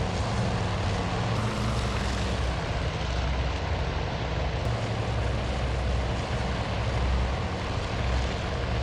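Carrier aircraft in the naval strategy game Task Force Admiral roll out for an early-morning takeoff, a loud, dense, continuous propeller-engine roar that swells slightly as they get airborne, with no voices.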